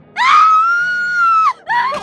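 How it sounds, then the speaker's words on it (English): A woman lets out a long, high, sustained scream, close and loud, followed quickly by a second scream cut short. "Tiana screamed and ran back inside."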